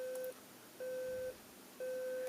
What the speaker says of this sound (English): It actually turns on the alarm.